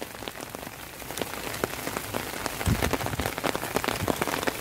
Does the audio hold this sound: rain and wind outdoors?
yes